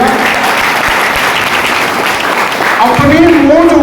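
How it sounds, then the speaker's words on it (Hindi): Audience at a business leadership talk in India applauding with sustained, dense clapping that carries on until a voice speaks over it near the end. "आप ताली बजा रहे हो"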